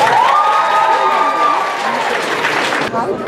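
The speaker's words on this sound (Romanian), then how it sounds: "Aplauze pentru Amalia Cassandrei!" Applause and cheering from an audience at a high school freshman ball, continuous and fairly loud throughout, with a bright tonal voice or music sweeping through the start above the crowd noise.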